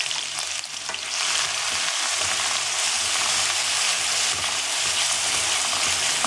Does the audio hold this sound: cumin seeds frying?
yes